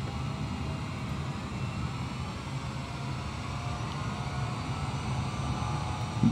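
Steady, moderately loud whine and rumble of a Boeing 787's engines at low power as the airliner taxis on a runway in Microsoft Flight Simulator 2020, a continuous drone with no talking.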